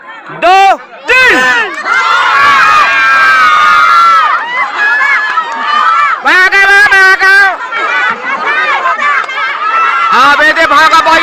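A village crowd in a running game yells together in loud, overlapping bursts of shouting and cheering, with children's voices among them, rising and falling in waves throughout.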